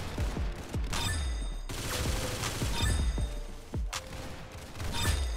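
Rapid gunfire in the Roblox game Arsenal, dense bursts of shots cracking one after another with brief gaps, loud and close throughout.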